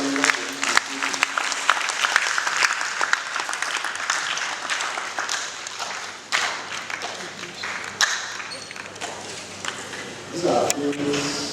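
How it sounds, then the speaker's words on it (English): A university convocation audience applauds for the alumni, a sustained ripple of many hands clapping that fades and swells in the hall, with a voice over part of it. "I think we need to clap aloud for the alumni."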